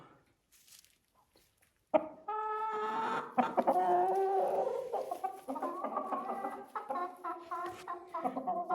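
Chickens in a coop cluck and call repeatedly after a brief quiet start, a busy overlapping chorus of hens close by with some louder, drawn-out calls mixed in.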